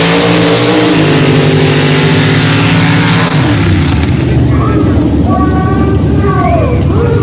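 Mud bog race vehicle roaring through a racing pass at an Orangeburg mud bog event, a loud sustained engine drone shifting pitch as it runs, with a crowd and voices mixed in over it.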